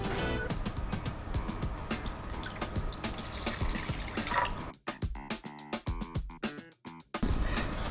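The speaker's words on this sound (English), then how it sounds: "I'm going to dissolve the salt into the water in a large bowl" Water sloshing and trickling as salt is dissolved into water by hand in a large bowl, a steady close splashing wash that breaks into a few separate drips and swishes toward the end.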